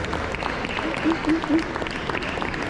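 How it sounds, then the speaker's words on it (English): An audience applauds the main organizer at a Nation of Islam gathering, with steady crowd clapping running throughout and a voice briefly speaking over it partway through. "round of applause."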